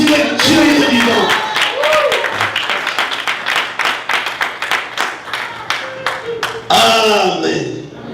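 A church congregation claps in rapid, steady rhythm while acclaiming Jesus, loud and close, with voices singing and calling out over the beat before the clapping fades at the end.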